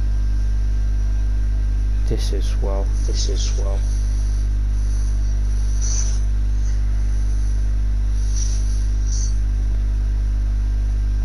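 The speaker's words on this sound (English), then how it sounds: "You can hear a storm." A deep, steady low rumble from the storm in a Fortnite match holds throughout, with brief spoken voices and a few higher sounds over it.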